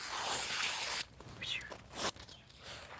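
Paper being pulled straight down into strips for compost: a long steady rasping tear, then several shorter ripping bursts spaced irregularly, close and clear with no talking.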